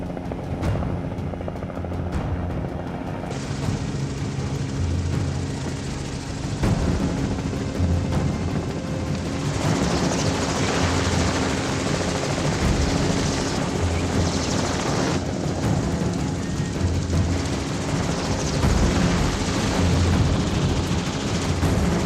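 Loud helicopter from the TV series The Wild, rotor roar thick and continuous throughout as it approaches to land, with a brief quieter start and no voices.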